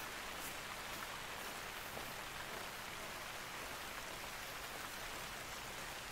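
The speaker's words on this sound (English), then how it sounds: "with this loud rain or what, they're not going to be able to hear if you're walking around" Heavy, steady rain pours without letup across the whole stretch in the hunting video game theHunter: Call of the Wild, outdoors, a dense even hiss with no voices over it.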